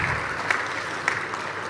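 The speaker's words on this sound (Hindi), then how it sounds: "बात अच्छी लगे तो आपकी तालियां।" An audience at a festival poetry recital applauds briefly, a steady wash of clapping with a few sharper claps standing out.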